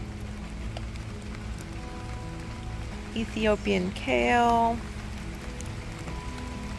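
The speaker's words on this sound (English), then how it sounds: "Yeah, it's really starting to rain now." Rain falling on a home garden planted with vegetable starters, a steady soft patter and hiss throughout, with a person speaking briefly over it in the middle.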